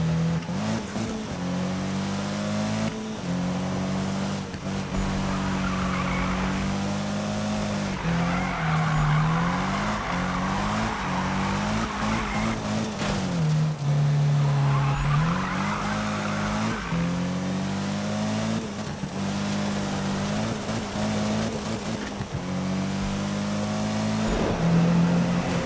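Race car engines in Need for Speed (2015) on PC drone continuously with rising and falling revs while tires squeal and skid through corners, loud and sustained with no talking.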